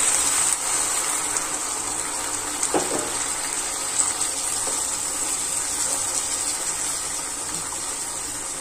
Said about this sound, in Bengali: এরপরে জল দিয়ে দেব